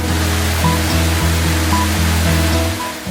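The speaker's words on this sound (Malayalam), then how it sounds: "തെങ്കാശിയിലെ ഏറ്റവും വലിയ വെള്ളച്ചാട്ടമാണ് കുറ്റാലം വാട്ടർഫോൾസ്" Kuttalam waterfall in Tenkasi, in the foothills of the Western Ghats, gives a continuous broad rushing wash with a steady low droning hum running underneath throughout.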